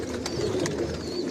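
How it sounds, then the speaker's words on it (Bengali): Racing pigeons in a loft give soft, low cooing calls, close and continuous, over a brief stretch. "অরিজিনাল রেসার, আর এগুলো সব বিদেশি কবুতর"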